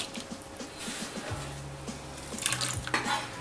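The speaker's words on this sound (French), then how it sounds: "l'oignon par exemple, je vais le couper en petits carrés" A kitchen knife dicing an onion into small squares on a cutting board, a few light quick taps and soft scraping, close and quiet with faint background room noise.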